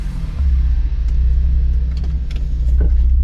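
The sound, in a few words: Ford Explorer ST engine driving on the road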